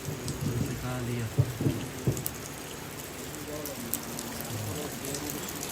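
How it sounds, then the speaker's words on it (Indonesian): Heavy rain pours steadily outdoors during a funeral gathering, a constant broadband hiss beneath scattered voices and a few brief knocks. "karena hujan deras ya"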